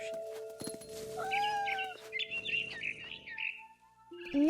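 A bird chirps in a series of rising, whistly calls in the game What Remains of Edith Finch, fairly close, with short pauses between phrases over soft background sound.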